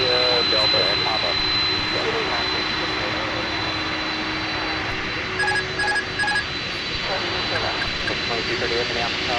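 Jet airliner engines roar steadily during takeoff at Minneapolis–Saint Paul airport, a broad continuous rumble with a tower radio voice giving clearance over it and brief electronic beeps partway through.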